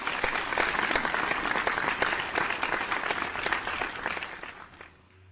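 A TV talent-show audience applauding the Vocal Fusion Season 9 band, steady full crowd clapping that holds for several seconds and then fades away near the end.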